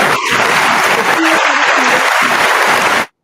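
An audience claps in congratulation at a soul line dance gathering, giving loud, dense, steady applause that fills the room and then stops abruptly.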